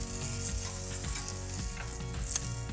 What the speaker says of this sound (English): let's get the fish off the barbecue